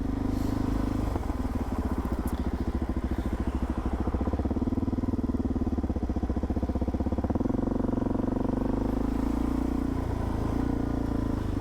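A Suzuki DR-Z400SM single-cylinder motorcycle rolls through congested traffic, its engine thumping in a steady low pulse close to the rider, with wind rush layered over it.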